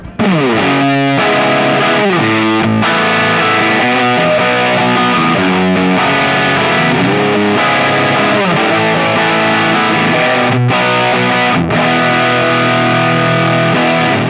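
Distorted electric guitar played through two Axe-Fx II cabinet blocks in stereo, thick chords and riffs sustained loudly with a few brief gaps, alone and without talk.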